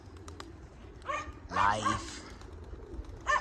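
Birds call in the sky outdoors, giving a few short bursts of calls, the loudest in the middle and another near the end, over quiet background, with a single word briefly spoken.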